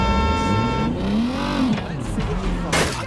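An old car in the video game Watch Dogs Legion drives with a loud, continuous engine drone and audible gear changes, pitch rising and falling as it shifts, with a burst of hiss near the end and talk faintly mixed in.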